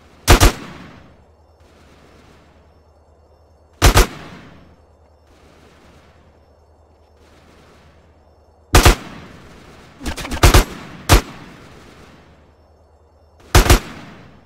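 Gunfire in the video game Grand Theft Auto San Andreas: loud, sharp single shots scattered through the clip, with a quick cluster of three near the end, over a low steady game ambience with no talking.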